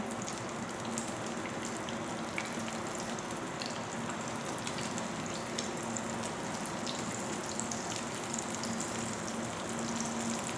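Shami kababs frying in a pan over a low flame, a steady, even sizzle and crackle of hot oil running continuously at moderate loudness.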